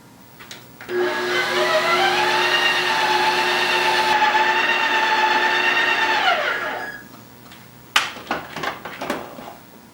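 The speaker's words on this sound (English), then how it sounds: "I'm putting in my chayote pieces now. So put it back on the machine and press the mix in button." An ice cream machine runs its mix-in cycle as chayote pieces are stirred in, a steady whirring motor drone with a strong tonal whine that holds for several seconds, then winds down and gives way to a few sharp clicks and knocks.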